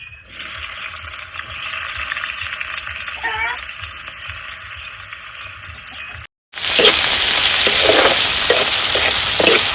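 Steady hiss of oil heating in a pot in a village kitchen, with a brief gap and then a louder, crackling sizzle that continues to the end.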